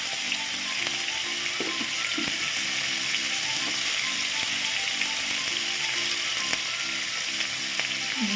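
Fish coated in turmeric frying in oil: a loud, continuous close-up sizzle that holds steady throughout, with faint mechanical ticking underneath.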